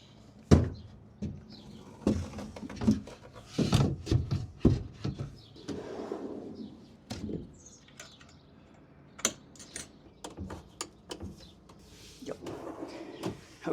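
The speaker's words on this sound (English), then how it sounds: "have to install the first rail in the 6th hole from the Pax wardrobe." Drawer rail being installed in an IKEA Pax wardrobe, a run of close, irregular wooden knocks, clicks and taps from fitting parts, with quiet gaps between bursts and no clear talk.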